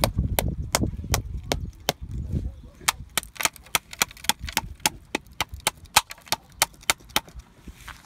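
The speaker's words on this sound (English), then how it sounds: "we'll go ahead and flip it over to the other side and we'll give it a couple more taps" Repeated sharp taps knocking an atlas stone mold apart, a rapid series of crisp hollow cracks, loud and close, with a rumbling handling noise early on before the strikes come in a steady stream.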